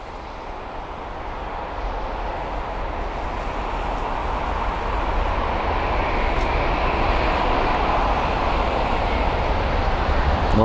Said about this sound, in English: 787-9 Dreamliner, and this is the arrival from Los Angeles LAX.